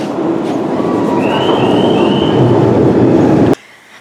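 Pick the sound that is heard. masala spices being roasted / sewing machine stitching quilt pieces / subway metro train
subway metro train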